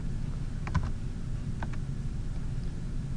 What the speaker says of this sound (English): use my tab key or my arrow keys on my keyboard,